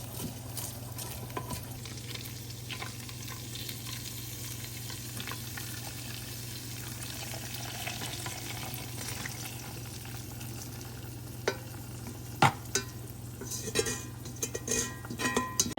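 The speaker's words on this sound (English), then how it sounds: "Let these meatballs simmer." Meatballs simmer in a pan with a soft, continuous sizzle and bubbling, close but fairly quiet, with a few sharp utensil clicks toward the end.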